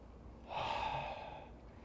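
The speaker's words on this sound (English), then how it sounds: "1 deep breath." A deep breath taken during a dynamic yoga flow, one slow airy inhale-exhale of about a second, close and soft against a quiet room.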